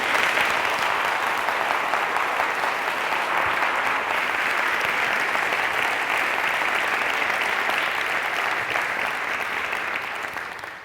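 Sustained audience applause at a science club show, steady and dense from start to finish, fading slightly at the very end, with no talk over it.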